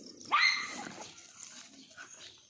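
A stray dog near a well-digging site lets out a single sharp bark close by, followed by fainter yips and background noise trailing off.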